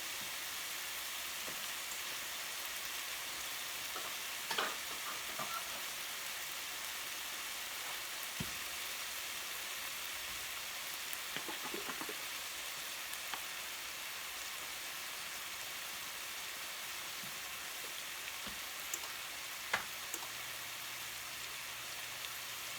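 Butter melting in a pan at the start of a homemade Alfredo sauce for chicken and broccoli pasta, a steady faint hiss and crackle running unbroken throughout, with a few soft clicks.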